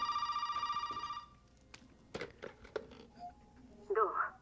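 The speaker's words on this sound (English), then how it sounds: "this phone call I can't skip." A telephone rings in Resident Evil 7 with bright repeated electronic trills for about a second, then stops, followed by sparse clicks and game sounds.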